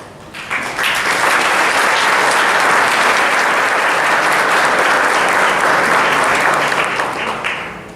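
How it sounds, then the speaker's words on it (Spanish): An audience applauds at the inauguration of a scientific research congress, a loud, full, sustained ovation that rises quickly and stays steady for most of its length before tapering slightly at the end. "hay que darle un gran aplauso"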